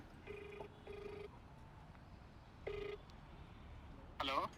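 Phone call during a prank about a friend's car accident: a series of electronic ringback tones sounds in short repeated bursts, quiet and slightly distant, under low background chatter.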